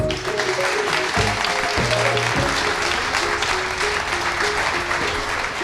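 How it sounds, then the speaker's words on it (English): Audience at a Silicon Slopes Live event applauding Vivint Smart Home president Alex Dunn, sustained clapping from a crowd at constant level for several seconds. "Let's give Alex a round of applause."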